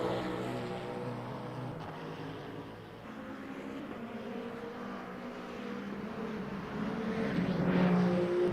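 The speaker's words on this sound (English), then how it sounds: "It's still a very loud and incredibly good sounding car." A V8 race car in the Le Mans Ultimate racing game, racing at Imola, drones with a steady engine roar that swells louder near the end, heard alone without talk.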